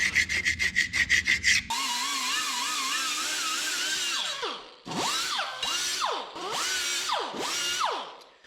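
A stuck gasket is scraped off a 1980 square-body 4x4 truck differential: a quick run of close, rhythmic scraping strokes, then a steady whining rotary tool with wavering pitch that surges in repeated passes.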